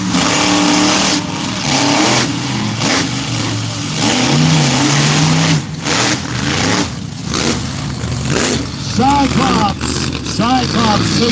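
Monster truck engines roar and rev at the start of a race at Barona Speedway in Lakeside, California, a loud sustained blare with rising and falling revs, mixed with crowd and announcer noise.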